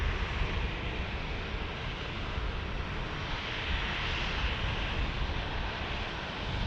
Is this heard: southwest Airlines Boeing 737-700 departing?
yes